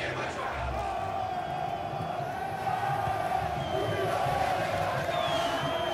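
Stadium crowd in FIFA 23 during a Brazilian Série B match, Guarani versus ABC, producing a continuous loud roar of cheering and chanting that swells slightly in the second half, with no pauses throughout.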